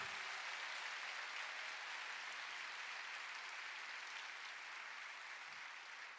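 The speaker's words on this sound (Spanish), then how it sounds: "Bien fuerte ese aplauso al Señor esta mañana." A church congregation gives a sustained round of applause during a morning service: a steady, dense patter of many clapping hands, heard from some distance and softly, slowly easing off toward the end.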